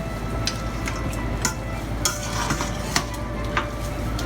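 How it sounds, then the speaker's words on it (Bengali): A sugar and tomato paste mixture being stirred in a pan, with regular sharp scrapes and clinks of the spoon against the metal roughly every half second over a low sizzle, close up. "এখন আমি এগুলোকে ভালো করে মিশিয়ে দেব।"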